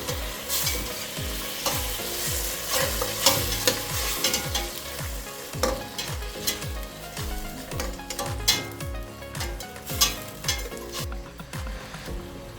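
Biryani masala sizzles in a pan while a spoon stirs it in quick repeated scraping strokes, loud and close with clinks of metal, the rhythmic stirring running throughout with no voices.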